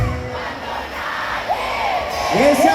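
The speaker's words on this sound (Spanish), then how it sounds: "Ese aplauso y grito para ustedes" An audience cheers and shouts in a hall, a broad crowd roar with rising whoops and yells toward the end, loud and continuous.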